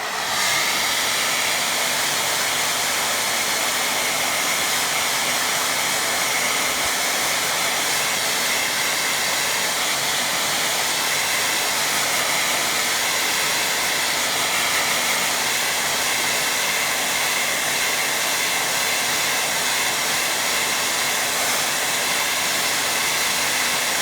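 A hair dryer blows steadily and loudly over a wet watercolour painting, a constant close whooshing roar that runs unbroken throughout.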